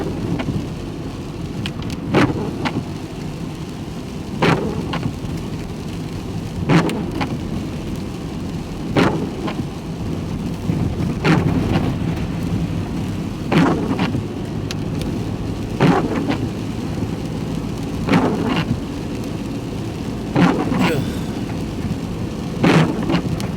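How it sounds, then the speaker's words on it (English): Steady rain falls outdoors with a constant hiss, broken by low rumbling thumps that recur every couple of seconds throughout. "Now we're back to bloody rain again."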